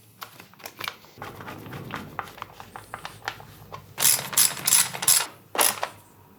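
A ratchet tightens the radiator mounting screws and radiator guard on a motorcycle during a fan installation, giving short bursts of close, crisp clicking that grow louder and denser toward the end.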